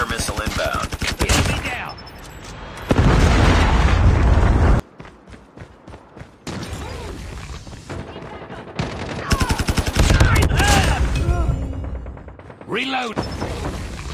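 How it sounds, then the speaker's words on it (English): Call of Duty multiplayer firefight with a Predator missile strike: loud, rapid automatic gunfire bursts are interrupted by a heavy, booming blast. Stretches of quieter firing follow before more close bursts, with game voices calling out in places. "Predator missile inbound"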